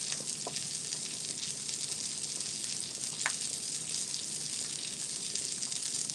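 Steady sizzling and bubbling of crispy pancakes frying in butter in a hot pan, a continuous close hiss with occasional small pops and no talk.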